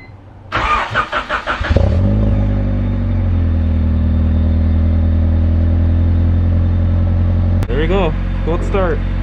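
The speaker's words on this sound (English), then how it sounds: "I'm gonna actually get a cold start of the Del Sol, let it warm up since I haven't started in a bit anyway" A Honda Del Sol's engine cold-starts with a loud cranking stutter, then catches into a steady, close idle that drones on evenly, with a brief sharp knock and a short stretch of talk over it near the end.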